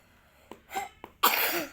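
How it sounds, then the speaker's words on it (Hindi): A few short coughs close by, then a longer, harsher cough burst, with brief pauses between them. "देखा खांसी कितनी आ रही है।"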